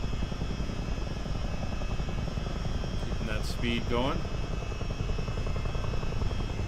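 A CH-47D Chinook helicopter flies in a multiplayer flight simulator game over the Great Lakes, its rotors and engines a steady, even drone throughout while someone speaks briefly over it.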